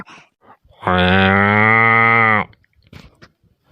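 A water buffalo lets out one long, loud, close-up moo lasting over a second and a half, with faint rustling and shuffling before and after.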